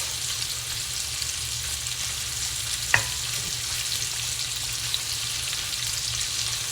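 Bacon fries in a pan with a continuous even hiss of sizzling fat, broken by one sharp pop midway and a fainter tick later, no talking.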